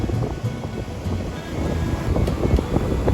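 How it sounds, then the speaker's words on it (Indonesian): Strong wind buffets the microphone at the beach during surf fishing, with surf rolling in underneath; a continuous loud roar and rumble with gusts swelling and fading throughout. "Anginnya sudah mulai ngejit"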